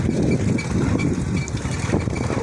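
A motorbike engine runs steadily close by outdoors near a spot where women wash clothes on dusty ground, a continuous rough mid-pitched drone with no talk.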